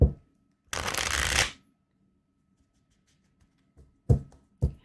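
A burst of tarot cards being riffle-shuffled, followed by quiet, then a couple of short taps and flutters near the end.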